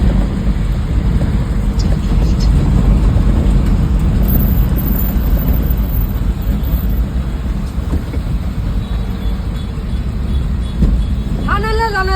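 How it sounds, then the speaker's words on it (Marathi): Heavy road traffic on Ghodbandar Road in Thane: a dense, continuous roar of engines and tyres that stays loud throughout, with a horn sounding near the end. "घोडबंदरवर मजबूत ट्रॅफिक आहे."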